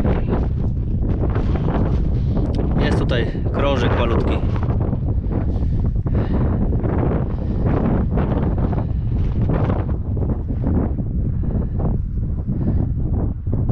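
Strong wind buffets a microphone outdoors during a metal-detecting treasure hunt, a constant heavy rumble with gusty swells, while someone talks over it.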